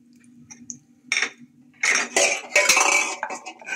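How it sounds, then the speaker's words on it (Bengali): Whole spices frying in hot oil in a pan while being stirred, with metallic clinks and scrapes of a spoon against the pan in bursts, close and fairly loud, with no talking. "একটু নেড়ে চেড়ে ভেজে নিচ্ছি"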